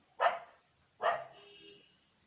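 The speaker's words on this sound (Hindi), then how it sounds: "यहाँ पे कुत्ते इतने भौंक रहे हैं क्या बताऊं" Two sharp dog barks about a second apart ring out clearly in a quiet room, the second trailing into a fainter whine.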